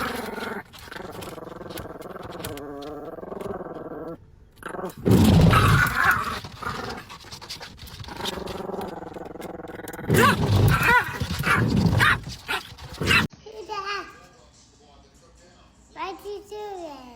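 A dog growls and barks in bursts, with loud rough growls and sharp outbursts heard close by, mixed with a voice and other people talking.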